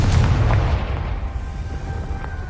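A Confringo spell explodes in the game Hogwarts Legacy, a single deep, booming blast at the start that fades into a low rumble and quieter crackles.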